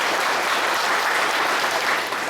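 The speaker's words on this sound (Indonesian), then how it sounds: "Boleh kita beri tepuk tangan juga untuk beliau." Audience applause for a Buddhist monk at a meditation talk, steady and dense for the whole stretch, fairly close and loud, with no voices over it.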